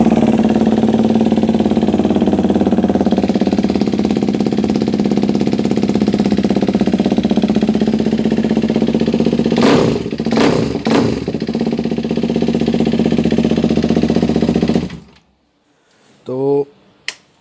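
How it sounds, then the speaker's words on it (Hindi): A KTM Duke 390 BS3 motorcycle idles loudly and steadily for about fifteen seconds, with a few quick sharp revs in the middle, then the engine cuts out and someone speaks briefly. "ये गाड़ी का स्टार्टअप साउंड है, अच्छी चल रही है 390, और ये BS3 का मॉडल है।"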